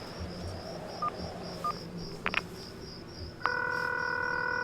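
In the Concluse game, a phone is dialed, with a few short beeping key tones over a faint cricket-like hum, a small clatter, then a steady loud ringing or dial tone that holds to the end.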